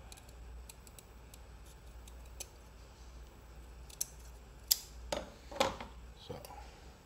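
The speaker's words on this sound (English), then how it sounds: "Can use scissors to cut out the shape." A few sharp snips and clicks of scissors cutting paper, spaced unevenly over a quiet background hum, close to the listener.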